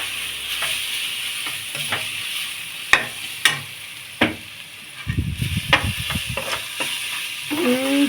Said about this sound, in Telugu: మంచిగా వేగినాయండి ఉల్లిపాయలు,